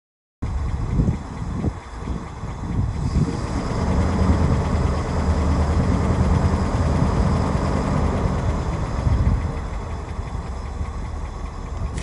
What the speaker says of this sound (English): Now let's go check the exhaust.